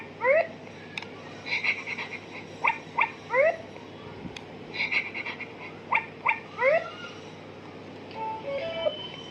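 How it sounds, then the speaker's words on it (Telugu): A Little Singing Puppy baby toy plays its music when pressed, giving out short bright electronic chirpy phrases and bark-like tones in repeated bursts, close and clear against a quiet room. "ఇట్లా ప్రెస్ చేసినప్పుడు మ్యూజిక్ వచ్చింది, మనకి మ్యూజిక్ ఇస్తుంది చూడండి"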